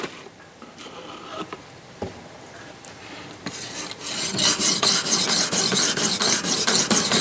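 A knife is sharpened on a 1500 grit stone with a Ruixin Pro sharpener: quiet handling at first, then loud, rhythmic rasping strokes of steel drawn across the stone, repeating steadily and close up.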